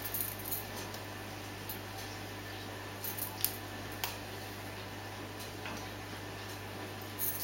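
Scissors trim off wisps of fine hair during a one-length haircut, giving a few faint, sparse snips and ticks close by over a steady low hum, with no talking.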